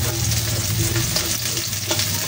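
Garlic sautéing in a pan until golden brown for chicken liver and gizzard lomi, a loud, steady, close sizzle with faint stirring scrapes and occasional small pops.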